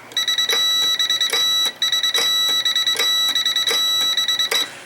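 Morse code is hand-keyed on old, restored telegraph equipment. A loud, steady high beep breaks into short and long pulses with a slightly uneven human rhythm, heard alone with no speech.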